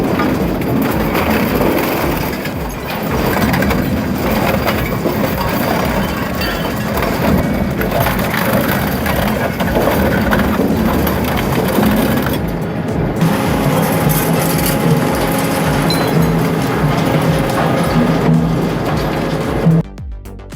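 An industrial scrap shredder crushes engine blocks and transmissions, a dense, unbroken roar of grinding, cracking metal that stays loud and steady throughout, ending with a brief drop.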